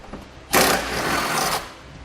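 A power tool spins a single 10 mm bolt off a brake line bracket on a 2015 Buick Enclave, a loud whirring burst of about one second that starts abruptly and then cuts off.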